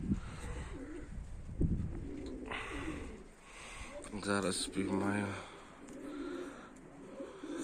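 Pigeons coo in low, rolling calls beneath a man's speech, with steady outdoor background noise throughout.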